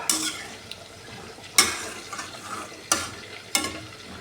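Rohu fish cooking with watermelon, stirred in a pan, with a steady sizzle and scraping of a spoon against metal, plus a few sharp louder clatters spaced through the stretch; no talking.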